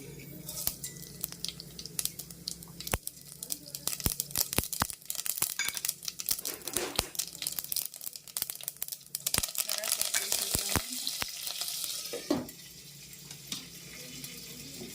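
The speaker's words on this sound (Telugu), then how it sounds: "ఆయిల్ వేడెక్కింది. ఆవాలు వేసేద్దాము" Mustard seeds spluttering in hot oil for a tempering, a dense crackle of quick pops and hissing that swells and fades over the span, close and moderately loud.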